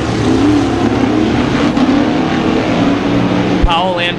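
Sportsman modified race cars accelerate hard on a speedway, a loud blended roar of several engines close by that holds steady, with a brief sharp burst near the end.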